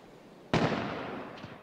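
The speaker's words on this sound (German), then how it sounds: "Wieder Schuss, wieder Scharfschützengewehr." A single sharp, loud sniper rifle shot in the online survival shooter H1Z1 cracks out and rolls off in a long echoing tail, with a fainter second report near the end.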